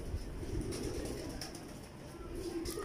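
A pigeon coos softly in low, throaty bursts over a steady background rumble.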